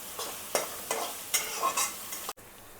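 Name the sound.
onions frying in a pan until golden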